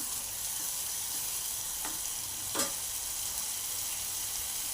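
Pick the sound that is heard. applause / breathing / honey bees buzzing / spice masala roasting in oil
spice masala roasting in oil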